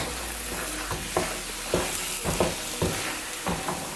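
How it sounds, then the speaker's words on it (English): Egusi (ground melon seed) frying in oil in a pot, a dense constant sizzle broken by regular scraping stirs every half second or so, close up and fairly loud. "As you can see, the egusi is beginning to get fried."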